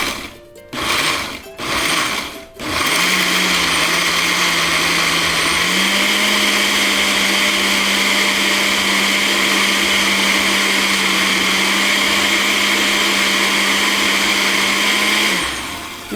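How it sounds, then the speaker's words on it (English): A countertop blender runs steadily and loudly for about thirteen seconds after a few clunks and knocks, its motor pitch stepping up once to a higher speed before it winds down. "Okay, now we're ready to blend."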